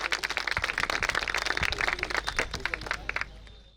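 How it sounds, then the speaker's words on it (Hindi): An audience claps and applauds at a real-estate project launch event, a dense spread of hand claps that keeps up steadily before thinning out and fading at the end. "एक बार जोरदार तालियां हो जाए लेडीज एंड जेंटलमैन"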